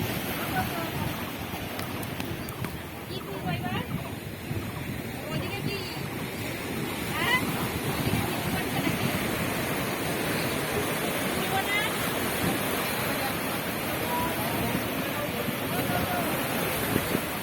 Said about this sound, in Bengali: আওয়াজটাই বুঝতে পারছি কতটা জোরে জোরে আওয়াজ হচ্ছে, কতটা জোয়ার আসছে।